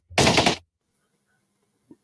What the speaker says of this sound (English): Ooh, gunshot.